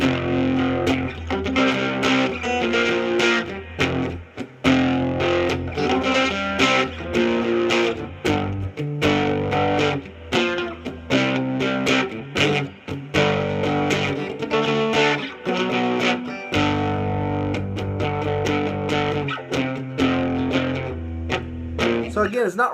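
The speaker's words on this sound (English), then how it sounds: "a lot of times what people will do with these power chords is add distortion" Electric guitar power chords through amp distortion, a loud, thick, driven rock tone strummed in rhythmic bursts with brief gaps between phrases.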